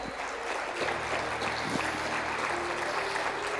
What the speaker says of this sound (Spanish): Dale un fuerte aplauso, sí, al Señor.